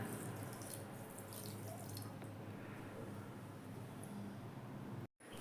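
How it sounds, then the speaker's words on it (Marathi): Water pouring from a tap into a pot of sugar for making semolina ladoo syrup, heard as a steady, close splashing stream that cuts off abruptly near the end. "याच्यात साखर घातलेली आहे आणि पाणी साखर बुडेल इतकंच घाला"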